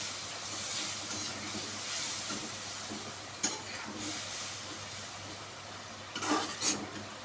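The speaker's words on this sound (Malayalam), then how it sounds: "അപ്പം ഇതൊന്ന് ഇളക്കി കൊടുക്കാം." Food being stirred in a cooking pan over a steady hiss of steam and sizzling, with a few brief scraping strokes of a spoon standing out, close and moderately loud, with no talk.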